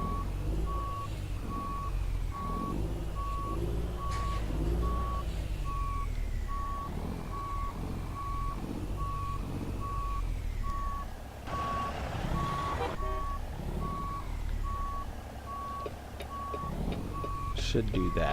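Truck backing up a heavy haul trailer in American Truck Simulator, with a steady repeating reversing beep over a low diesel engine rumble, and a person talking over it.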